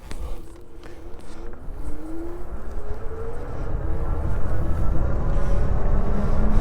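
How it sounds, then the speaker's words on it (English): A ZDZA fat-tire electric bike runs on throttle alone, its motor whine rising in pitch as it speeds up under wind and tire rumble, growing louder toward the end. "So let's go and test it the throttle only."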